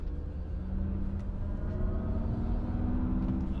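Synthetic electric drive sound of a 2023 Mercedes EQE SUV in its Vivid Flux mode, a steady low humming drone with faint tonal layers that swells slightly as the car moves, heard alone inside the cabin.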